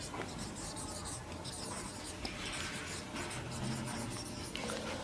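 A physics equation for Newtonian mechanics is being written by hand on a board during a lesson, giving a steady, continuous scratchy rubbing of strokes that runs through the whole stretch at a moderate, even level, with no speech.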